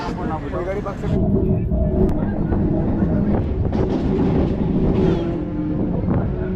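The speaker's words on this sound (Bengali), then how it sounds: "ঠিক টাইমেই কিন্তু ট্রেনটা আমাদের ঢুকিয়ে দিল নামখানা স্টেশনে" A Namkhana local passenger train runs on rails, a loud rumbling roar with wind buffeting the microphone and a voice speaking over it.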